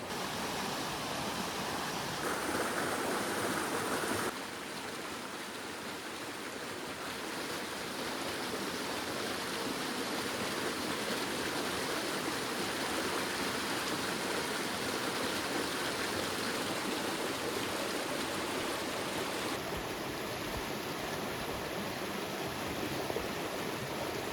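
A river in Arizona runs over rocks in a steady, full rush of water, loud and close throughout with no voices, the texture shifting slightly partway through.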